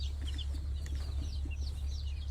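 Chickens on a chicken farm cluck softly and repeatedly at a distance over a steady low hum, with no one speaking.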